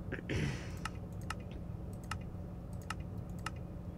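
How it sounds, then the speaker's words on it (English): Keys tapped on a computer keyboard and picked up closely by a Blue Yeti microphone: sparse, crisp clicks spaced about half a second apart, with a short denser clatter near the start and a faint background hum. "You probably can hear every single tip-tap I do with my keyboard due to me using my Blue Yeti microphone"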